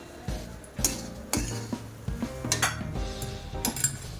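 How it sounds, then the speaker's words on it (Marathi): A spatula mixes spiced leftover chapati pieces in a pan for a breakfast dish, producing a quick series of metallic clanks and scrapes against the pan, close and fairly loud, with no speech. "आता हे छान असं मिक्स करायचं सगळं"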